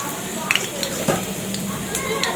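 Oil sizzles in a pan while it heats for a thoothuvalai thuvaiyal, with a soft steady crackle, a few sharp pops and light stirring clinks, fairly quiet.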